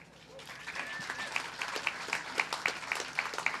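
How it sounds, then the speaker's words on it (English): Modest audience applause after a remark at a UC Berkeley Graduate School of Journalism talk, fairly quiet and thin, with a few sharper claps in a loose, steady rhythm and a faint voice briefly audible early on. "That is worth applauding."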